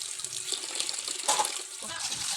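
Water splashes and runs as fish are rinsed before drying, a steady close wash with a few louder sloshes, fairly faint.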